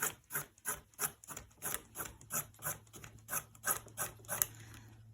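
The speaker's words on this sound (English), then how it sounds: "So the carrot, if it's small, like on this end, you could just do little small slices." A small carrot sliced thin with a knife on a wooden board for a chef salad, about a dozen crisp, evenly spaced chops close by, with no talking.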